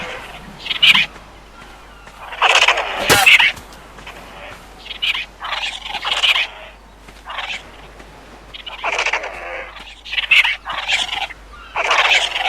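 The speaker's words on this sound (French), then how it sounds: "Moi je t'aime pas les dodos." Dodo birds in the game Ark Survival Evolved, giving a run of close, loud gobbling, turkey-like calls in uneven bursts over a low steady hum.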